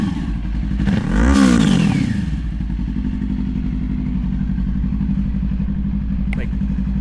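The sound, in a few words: Yamaha R3 motorcycle with Coffman's slip-on exhaust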